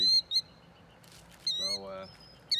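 Killdeer calling near its nest of eggs beside a parked RV, shrill high piercing notes in short bursts, close and loud, with a lower trilling call in between.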